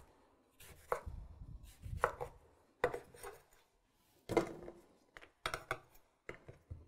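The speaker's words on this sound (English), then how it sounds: "So we're just gonna slice it up" Lemons sliced with a knife, skin left on, in a series of irregular crisp cuts and taps against a board, each followed by short quiet pauses, close and fairly soft.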